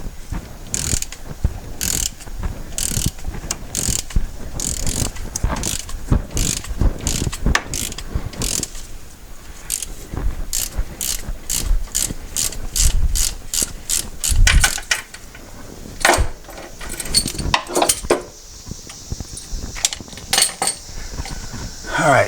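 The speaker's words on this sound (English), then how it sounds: "this pulley comes off, balancer I guess, comes off fairly easily. As long as the puller doesn't interfere with anything." Metal mechanisms clicking and ratcheting as a puller draws the crankshaft pulley, or harmonic balancer, off a 2007 GMC Acadia engine still in the car; close, repeated sharp ratchet clicks in irregular bursts with clanks, without talk.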